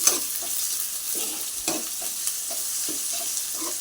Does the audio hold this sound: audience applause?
no